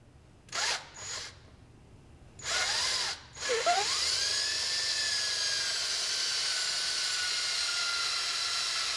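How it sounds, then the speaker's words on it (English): Power drill boring the two rear holes into a skate boot heel for an LXT blade mount, with short revving bursts followed by a long, steady, loud whine as the bit cuts through. "I'm going to drill the 2 back holes"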